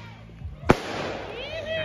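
A single sharp firework bang rings out at a campout, loud and close, followed by a lingering rumble and faint whistling crackle as people talk nearby.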